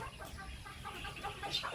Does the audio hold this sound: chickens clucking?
yes